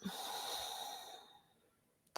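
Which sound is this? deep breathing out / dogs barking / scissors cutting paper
deep breathing out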